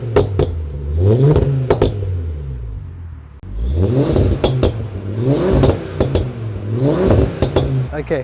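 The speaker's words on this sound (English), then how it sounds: "Let me hear this exhaust." A cold Audi RS3 engine is revved repeatedly through its exhaust, about five sharp rising blips that fall back to idle, loud and close.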